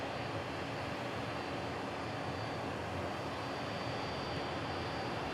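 A steady, even roar from an Aer Lingus airliner's engines carries across DFW airport, sustained and moderately distant, with no speech over it.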